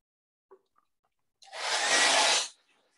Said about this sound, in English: grab our blow dryers and go ahead and blow dry